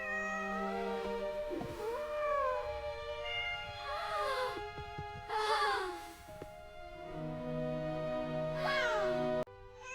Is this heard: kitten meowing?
yes